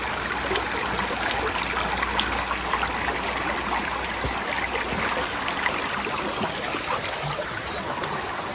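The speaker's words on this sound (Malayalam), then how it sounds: "താഴത്തേക്ക് നോക്കുമ്പോണ്ടോ അതേ വെള്ളം പോണം." Stream water flows beneath a small wooden bridge at Omeru Reserve near Auckland, a steady, close, broad rushing and trickling wash that stays even throughout with no voices.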